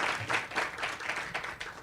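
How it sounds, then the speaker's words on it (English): A small gathering claps for a student being honoured as council member for a day at a county council proclamation, a short burst of uneven, fairly close applause lasting under two seconds. "Please, let's give a round of applause for our council member for a day"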